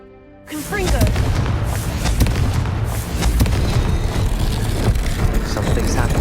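Confringo blasting spell cast in the video game Hogwarts Legacy: a sudden loud blast bursts in about half a second in, then gives way to a sustained, dense rumbling roar mixed with game sounds.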